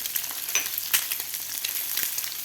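Boiled eggs fry in a pan of masala with red chili powder, turmeric and salt, giving a steady close sizzle with light stirring crackles throughout and no voices.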